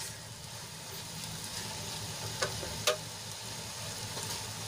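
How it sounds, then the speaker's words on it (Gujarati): Okra mixed with a peanut and sesame masala sizzling and frying in a pan, a soft, steady hiss with a couple of small crackles and taps, heard alone. "આપણો મસાલો સરસ રીતે સંતળાઈ ગયો છે અને ભીંડામાં સરસ રીતે મિક્સ પણ થઈ ગયો છે"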